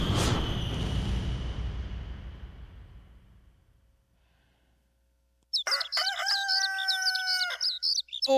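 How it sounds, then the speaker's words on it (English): A rooster crows loudly and close by in several strained, warbling calls, following a crash that fades away into a few seconds of near silence. "That rooster crowing says that it's almost morning"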